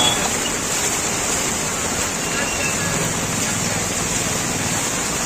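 Heavy rain pours over Virar city as a dense, loud, continuous hiss with no breaks, a wide wash of falling water that fills the whole scene.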